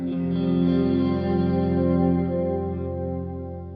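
Guitar running through an effects pedal set to full wet blend, a sustained chord washed in thick chorus-like shimmer and modulation that swells and then slowly fades.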